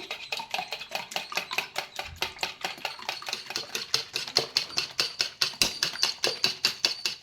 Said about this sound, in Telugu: బ్రేక్ చేసుకోవాలన్నమాట గిల కొట్టేసుకోవాలి